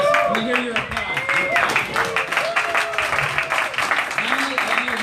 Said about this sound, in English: Let me hear your applause.